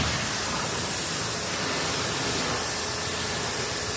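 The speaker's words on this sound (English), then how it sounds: "Spray it from the top down." Water spray hitting a Honda Acty kei truck from the top down as it is washed, a steady loud broadband hiss that runs unbroken throughout.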